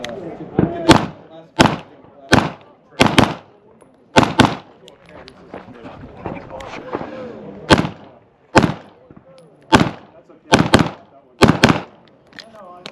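A Springfield Prodigy pistol fires at a USPSA classifier stage: loud, sharp shots come in quick pairs and clusters with short pauses between strings, with echoes and bits of background noise between them.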